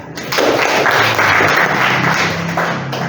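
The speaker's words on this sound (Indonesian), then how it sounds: "Tepuk tangan." Audience applause at a church gathering, a dense steady wash of many hands clapping close by for a few seconds before tapering off.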